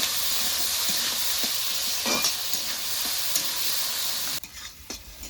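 Capsicum, onion and chopped green chilli fry for Maggi, a steady close sizzle with a few stirring scrapes; the hiss drops abruptly near the end as the heat or pan changes.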